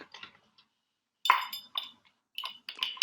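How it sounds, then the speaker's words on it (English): Small ice cubes clink and clatter into a rocks glass during cocktail making, a few bright separate impacts close by with short pauses between them and no talking. "Add a couple more little cubes to your rocks glass so it's nice and icy."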